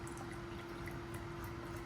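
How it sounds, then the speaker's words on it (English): Distilled water poured into a kombucha brewing jar, a steady continuous liquid rush that runs evenly through the whole moment, close and moderately loud, with no voices. "I'm gonna add some distilled water"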